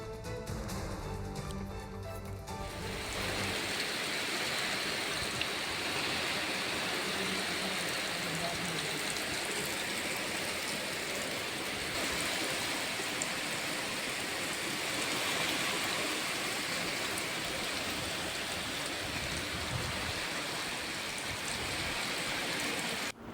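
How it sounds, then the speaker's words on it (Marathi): Heavy rain pours over a city street in Gondia with rainwater flowing across the road, a steady broadband wash that runs unbroken for the whole stretch after a brief opening burst of other sound. "गोंदिया शहरात आलेल्या दमदार पावसामुळे रस्ते जलमय झाल्याचं पाहायला मिळालं"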